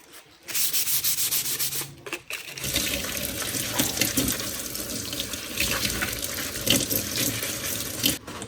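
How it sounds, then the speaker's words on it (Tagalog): A bolo knife is scrubbed with soap under running tap water at a sink, with a steady close rush of water and rubbing that pauses briefly near the start before continuing. "Hugasan natin ng sabon."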